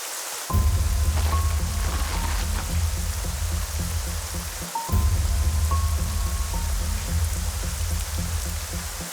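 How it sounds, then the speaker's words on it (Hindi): Heavy rain pours steadily onto surfaces, a dense continuous hiss and patter that briefly dips and surges back, with faint tonal sounds in the background and no talking. "बारिश बहुत तेज हो रही है"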